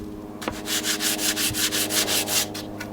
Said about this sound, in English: And for this one, I want to sand it to the same exact tip.